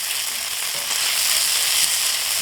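Andouille sausage and tasso meat browning in a hot pan give off a steady, close sizzle and frying hiss that runs unbroken throughout.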